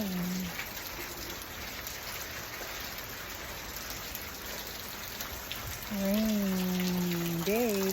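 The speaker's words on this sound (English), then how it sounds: "It is raining today." Steady rain falls outdoors on a wet afternoon, a soft, even patter throughout, with a voice briefly humming or speaking over it near the end.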